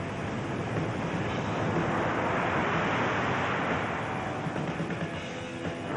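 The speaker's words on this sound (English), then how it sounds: "Winds have now picked up to about 30, 35 miles an hour with stronger gusts" Strong wind at 30 to 35 mph with stronger gusts roars over ocean surf during a windsurfing competition, a dense continuous rushing wash with no speech and a steady level.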